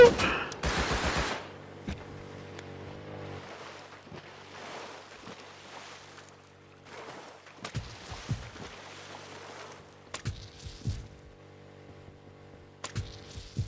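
Gunfire in the console version of the video game Rust during a power plant crate PvP fight. A loud rapid burst opens the clip, followed by quieter scattered shots and faint background noise.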